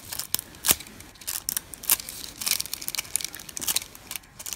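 Copper foil for leadlight glasswork being handled and peeled, with crisp crinkling and snipping bursts close up, intermittent and fairly loud, no talking.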